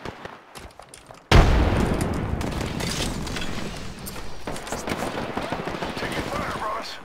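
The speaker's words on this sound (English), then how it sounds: "Grenade out." A loud explosion bursts in during the video game Apex Legends, followed by sustained rattling gunfire and combat noise that carries on to the end.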